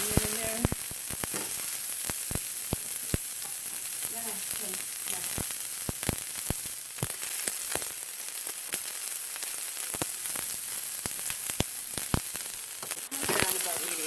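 Chopped onion sizzling in hot olive oil in a pan, a steady crackling fry with scattered sharp pops, close and fairly quiet, with a brief voice at the start and near the end.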